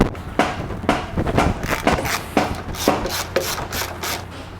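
Brake calipers are worked off a Harley-Davidson Pan America motorcycle during a brake rotor install, giving a run of close scraping and rubbing metal-on-metal strokes with short knocks and no talk.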